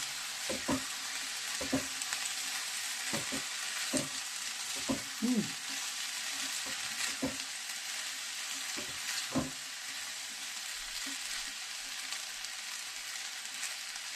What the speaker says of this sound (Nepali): यसलाई अब म 5 मिनट जति यतिकै राखिदिनेछु, मजाले फ्राई होस्